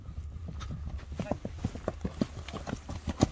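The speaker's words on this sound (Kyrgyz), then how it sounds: "кыска аралыкка бул атты чаап көрөлү дедик" A horse runs a short stretch, its hooves beating a quick, uneven clip-clop that stays fairly close, while people talk over it.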